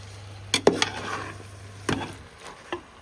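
Ivy gourd (chikudukaya) curry stirred in a pan: a few sharp spoon knocks and scrapes over a low background hum, close and moderately loud, with no talking.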